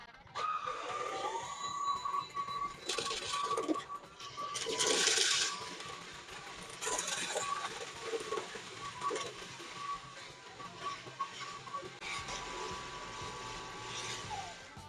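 A MOOSOO K17G cordless stick vacuum runs over medium pile carpet, its steady motor whine holding throughout with louder surges as it is pushed and pulled, no talk over it.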